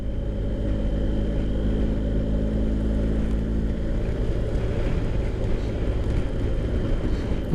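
Low, steady engine rumble of boats moving on the sea, constant for several seconds and mixed with heavy wind buffeting the microphone, with no talking.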